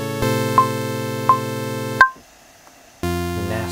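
Synthesizer chords played as a progression for a trap beat, with bright sustained tones and a few accented notes, then a sudden gap of silence before another chord enters and rings on.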